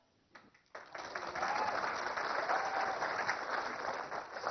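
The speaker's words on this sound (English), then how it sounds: "Yeah, you can applaud for that." An audience at a talk on financial freedom breaks into applause, rising quickly after a brief pause and continuing as a full, sustained wash of clapping from many hands.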